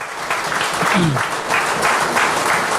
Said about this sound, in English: Let's see another round of applause for Senator Faris Alwari.